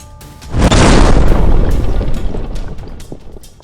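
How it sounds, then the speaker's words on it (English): A timed explosive carried by a soldier detonates in a single loud, close boom that rolls out into a long, rumbling decay lasting a few seconds. "a timed explosive he was carrying detonated"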